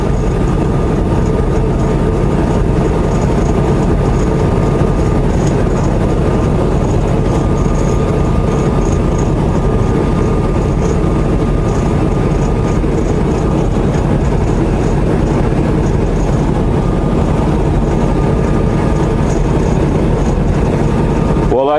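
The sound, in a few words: long train passing in the desert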